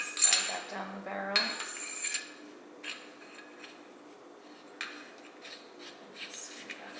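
Geissele handguard nut on an AR-15 barrel, with close metallic clinks and scraping at the start, then softer intermittent taps and rubbing as the nut is threaded on, faint and sparse.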